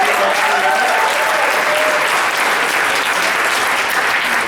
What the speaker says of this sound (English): A round of applause for all my fellows.